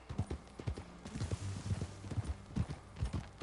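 Horse hooves clip-clop in a steady, uneven rhythm on a ranch as a rider sets off, fairly close and continuous for the whole stretch, with no talk over it.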